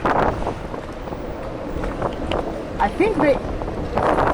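Strong hurricane wind roars and buffets a boat during Hurricane Elsa, loud and gusty throughout, with people shouting and talking over it.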